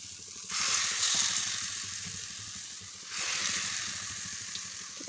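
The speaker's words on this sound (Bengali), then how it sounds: "এটাকে এখন ভাজবো।" Fritter batter of potato, cabbage and gram flour fries in hot oil, making a continuous hiss that surges twice as pieces go in, with light scraping underneath.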